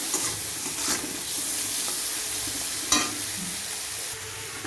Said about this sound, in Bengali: নুন হলুদ দিয়ে দিলাম, চিংড়ি মাছটা ভেজে নিই।